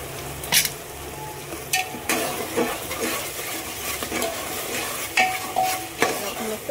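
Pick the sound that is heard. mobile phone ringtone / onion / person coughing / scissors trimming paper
onion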